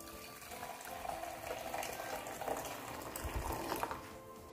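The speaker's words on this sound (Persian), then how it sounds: "خب اول آب جوش رو می ریزم." Continuous gurgling pour of boiling water into a pot for Persian dizi stew, steady and close, with bubbling and splashing throughout.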